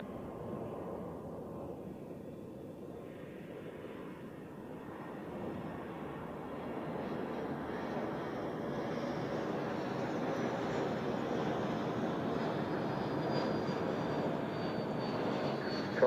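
At Zurich Airport a fixed-wing airliner takes off from runway 28, its engines giving a broad, steady roar that slowly swells louder for the whole stretch without any voices.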